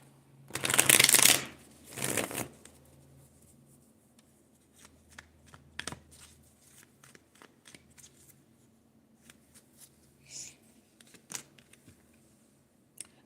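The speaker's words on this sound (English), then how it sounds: "Let me get one more good shuffle for you" Tarot cards being shuffled by hand, two loud riffling bursts at the start followed by quieter scattered taps, slides and card clicks, close up, with no speech.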